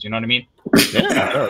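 A single sharp sneeze bursts out right after a short pause in a casual conversation between people talking, loud and close, with speech continuing straight after it.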